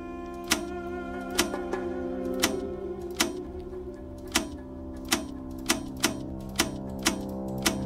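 Mechanical clicking from a device in the puzzle game Quern, sharp ticks repeating at a steady pace about every half second over a low hum, with no talk.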